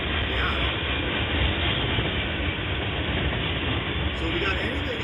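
Freight train with a lumber load, its tarp coming loose, rolling steadily past trackside with a loud, continuous roar and rumble of wheels on rails that holds throughout.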